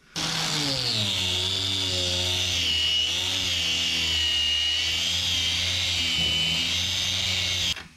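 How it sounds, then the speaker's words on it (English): Power sander grinding old paint off the quarter panel of a 1959 Dodge Coronet, a steady close whine with a low motor hum that holds for nearly the whole stretch and then cuts off at the end. "we're just about got the whole entire quarter all sanded down"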